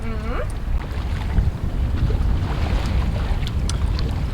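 Sailboat heading out of a harbor in strong wind, with steady wind buffeting and water rush throughout, occasional faint voices, and a brief whistle-like tone at the start.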